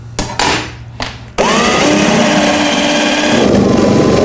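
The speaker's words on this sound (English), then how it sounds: "And we'll drill them." A power drill bores bolt holes through a wooden drawer side. A few short bursts come first, then one long, steady, loud run of the motor, close and alone.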